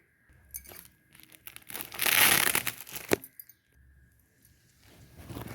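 Parcel of ordered night dresses being unwrapped up close, with scattered crinkling and tearing of packaging and one louder rustling burst in the middle, set against quiet room tone.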